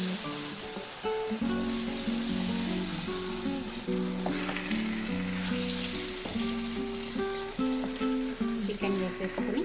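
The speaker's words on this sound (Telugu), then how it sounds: "ఇప్పుడు మనము చికెన్ యాడ్ చేసేసుకున్నాము." Chicken sizzles steadily in Dindigul-style biryani masala as it is stirred and fried, a continuous hiss heard under tuneful background music.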